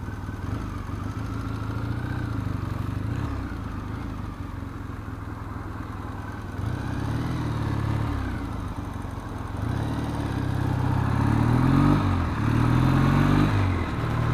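A motorbike ridden on the road, its engine droning steadily at close range and rising and falling with throttle changes, with no voices over it.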